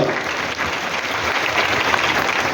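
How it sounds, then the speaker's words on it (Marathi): A theatre audience at a political rally in Thane applauding to welcome a minister: dense, loud, sustained clapping from a full hall that keeps an even level throughout, with no voices over it. "या ठिकाणी आदरणीय मंत्री केसरकर साहेबांचं आपण जोरदार टाळ्या वाजवून स्वागत करूया।"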